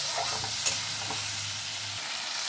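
Ground masala paste frying in hot oil while a Bengali koi fish curry cooks, a close, steady crackling sizzle with a single brief clink near the start.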